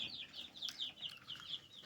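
Young chickens on a small farm cluck and cheep repeatedly in quick, faint calls over low background noise, with no talking.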